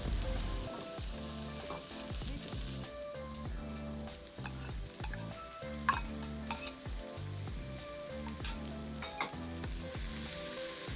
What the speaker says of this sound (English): adding vegetable oil to the pan and stir frying garlic and the mixture on medium heat